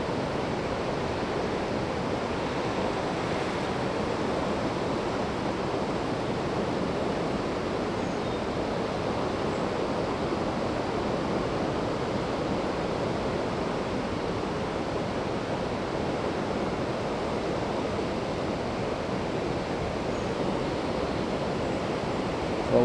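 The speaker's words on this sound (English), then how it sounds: "Water coming through again, areas where water doesn't normally flow." Floodwater rushing through woods in areas where water does not normally flow, a steady, loud, unbroken roar of flowing water with no talk.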